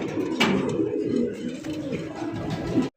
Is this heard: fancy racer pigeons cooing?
yes